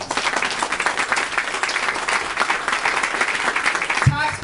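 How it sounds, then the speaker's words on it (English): Round of applause from a party audience at a taxpayers' coalition anniversary celebration, steady dense clapping with cheering voices mixed in, filling the room and continuing throughout. "give yourselves a round of applause"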